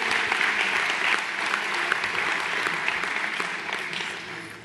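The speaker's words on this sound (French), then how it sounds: "vous pouvez les applaudir." Audience applause for the children's municipal council at a town New Year's greetings ceremony, a dense steady crowd clapping that runs throughout and tapers slightly at the end.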